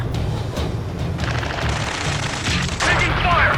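Rapid gunfire and booms from the video game Ace Combat 7: Skies Unknown, a sustained loud barrage of shots with radio chatter layered over the combat noise.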